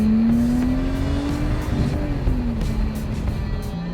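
Lotus Exige S Roadster's supercharged 3.5-litre V6 making 345 horsepower, mounted just behind the cabin, howls loud and close with a steady rising then easing engine note, strong and continuous throughout with no talking.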